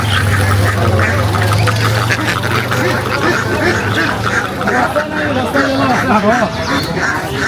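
Ducks quack at a market among loud, crowded chatter of people talking and bargaining, with a low steady hum underneath throughout.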